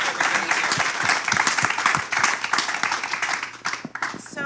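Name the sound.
applause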